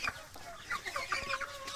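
Local chickens on a small farm clucking repeatedly, with short overlapping clucks and calls close by and a steady barnyard background.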